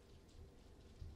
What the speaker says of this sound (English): That is a lot of rain.